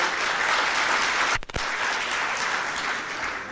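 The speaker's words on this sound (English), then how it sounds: "I'm going to clap." Sustained applause from delegates at an African trade union congress in Nairobi, broad and even throughout, broken midway by a brief thump or microphone knock before the clapping carries on.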